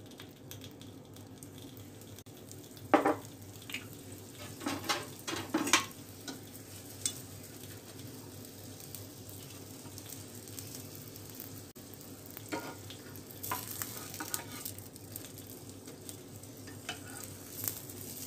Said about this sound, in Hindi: हम ज़्यादा हाई फ्लेम भी नहीं मीडियम फ्लेम पे पकाएंगे हम पराठे को